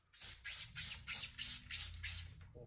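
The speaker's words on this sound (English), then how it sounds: "need to spray this out." Aerosol cleaner sprays in seven short, even bursts into the adjuster of a Fox 36 Factory FIT4 mountain bike fork during a full service, each hiss close and loud with brief gaps between, under a low mechanical rumble.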